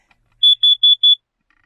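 A carbon monoxide detector sounds its test alarm: four loud, high, evenly spaced electronic beeps in quick succession, alone in an otherwise quiet room.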